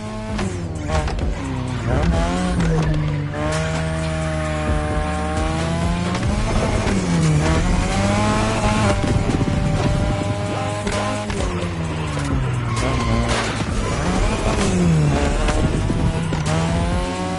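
A 2002 third-generation Mazda RX-7 with a rotary engine drifts in The Crew Motorfest racing game, its engine wailing and rising and falling in pitch over squealing tires, loud and continuous without talk.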